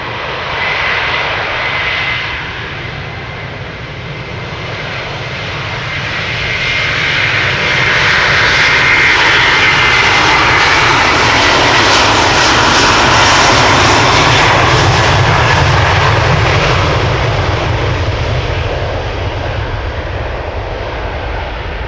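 A Delta Air Lines Boeing 747-8 departing Amsterdam Schiphol Airport for Minneapolis roars as its engines spool up, a broad, loud jet rumble swelling toward the middle and holding steady before easing slightly, with no talk over it.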